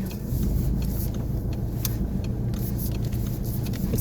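Steady low engine and road rumble fills the inside of a moving car, a constant close drone with faint higher rattles and no voices.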